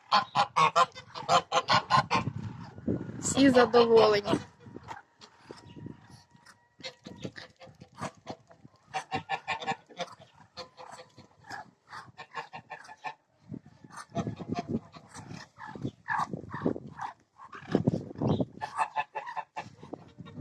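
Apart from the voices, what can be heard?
geese honking and ducks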